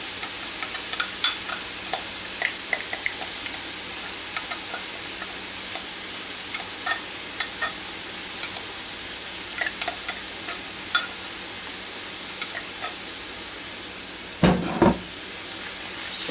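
Ground beef cooking with onions and barbecue sauce in a pan, giving a steady sizzle with scattered small clicks and scrapes of stirring and a brief louder clatter near the end.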